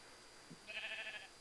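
A sheep in a video game gives a single short, quiet bleat close by, a brief wavering call standing alone against a near-silent background.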